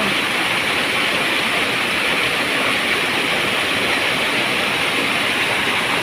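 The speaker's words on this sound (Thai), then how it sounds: "พอดีเป็นน้ำตก" Steady, full-bodied rush of a waterfall, constant and close with no pauses, pouring nearby.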